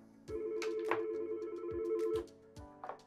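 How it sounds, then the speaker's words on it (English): A Yealink desk phone on a 3CX system rings with an incoming call, a steady electronic ring tone with short repeated pulses running nearly the whole time, close and clear, with no one talking. "I'm going to receive another phone call."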